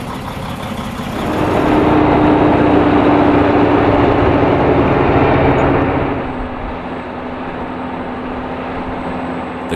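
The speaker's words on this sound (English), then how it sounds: "The Claas Xerion 640 is a medium-sized agricultural tractor manufactured by the German company Claas" Claas Xerion 640 agricultural tractor engine swelling from a steady idle into a loud, sustained drone for several seconds, then easing back to a lower steady running hum, heard alone.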